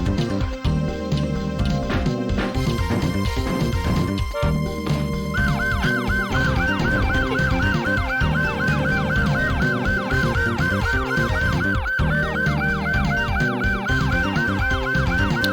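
A wailing police-style siren from a Sega Saturn racing game's sound test cycles continuously over a dense, busy electronic backdrop, loud and unbroken for a long stretch.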